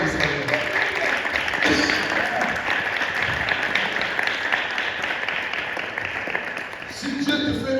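A church congregation at a Sunday service breaks into loud, sustained applause and acclamation that fills the room for several seconds, with voices calling out within the clapping.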